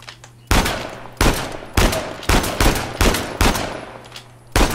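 Gunshots in Uncharted The Lost Legacy, fired at a fragile wall: seven loud, sharp single shots spaced about half a second to a second apart, each with a short decaying tail over a low game hum.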